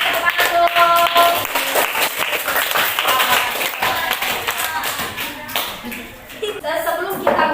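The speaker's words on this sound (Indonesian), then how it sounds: "Oke, semangat tepuk tangan dong." Children in a classroom clap their hands in quick, uneven rounds, close and sharp, with chatter and voices running underneath and a brief lull before clapping resumes.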